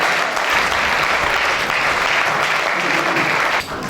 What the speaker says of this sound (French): Nous allons nous mettre en acclamant très fort le Seigneur